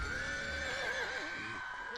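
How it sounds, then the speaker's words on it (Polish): A frightened horse in the LEGO Lord of the Rings video game whinnies once, a loud, wavering neigh lasting about two seconds, alone and without talk. "Koń się znowu wystraszył."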